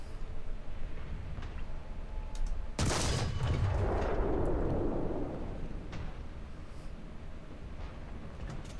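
A single heavy tank cannon shot in the War Thunder game, a sudden loud close blast followed by a rumbling decay, over a steady background engine drone.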